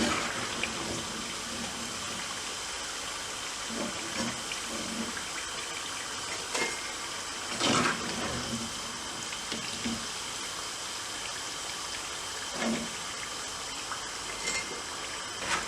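Paruppu vadai deep-frying in hot oil, a steady close sizzle with a constant hiss that goes on unbroken, plus occasional soft clinks and bumps from handling the pan.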